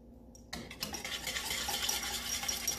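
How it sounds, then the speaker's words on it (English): A whisk scrapes steadily around a pan of Alfredo sauce made with heavy cream and thick melting cheese, a close, continuous swishing and metal scraping that starts abruptly after a brief quiet moment. "we wanna make sure that we keep whisking that all the way through"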